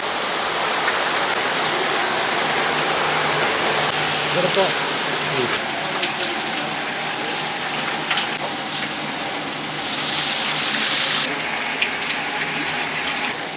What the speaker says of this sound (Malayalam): അല്ല എന്നാ മഴയായി.